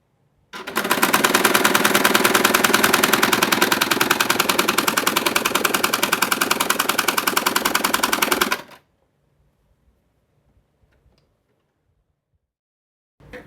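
A sewing machine stitches a purse in one loud, fast run of rapid mechanical ticks lasting about eight seconds. It stops abruptly, leaving near silence and a few faint clicks.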